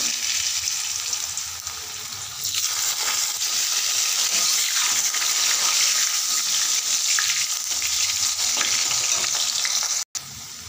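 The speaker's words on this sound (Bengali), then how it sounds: "আলুটা লাল করে ভেজে নেব" Potatoes frying in hot oil tempered with cumin seeds and dry red chilli, a steady loud sizzle with occasional stirring scrapes, continuous and close, ending in a brief cutoff.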